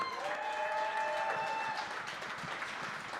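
A packed live crowd applauds on a snowy winter Monday night, dense steady clapping filling the room at a fairly even level throughout.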